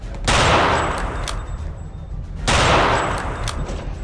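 Machine gun fire in the video game Return to Castle Wolfenstein, two loud close bursts of rapid gunfire about two seconds apart, each trailing off into a noisy decay.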